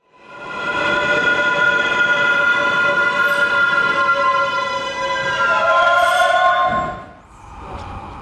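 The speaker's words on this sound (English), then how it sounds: "the sound the subway does while braking was the most terrifying thing" A subway train in the video game Dead Space brakes with a long, shrill metallic squeal of sustained high tones that shift and bend near the end before fading into rumble.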